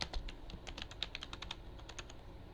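Rapid typing on a computer keyboard, a steady run of close, crisp key clicks with no talking.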